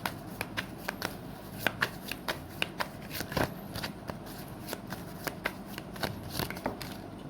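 Tarot cards are shuffled close up in quick, steady repeated riffles and soft papery slaps, quiet and alone.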